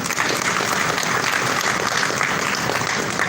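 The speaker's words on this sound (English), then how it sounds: "Another one, a round of applause," Audience applause at a youth summit in Africa, a dense, steady wash of many hands clapping at once, loud and sustained throughout with no voices standing out.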